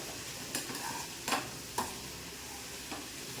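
Broad beans and onion frying in a pan, with a steady soft sizzle and a few sharp clicks of a spoon stirring against the pan.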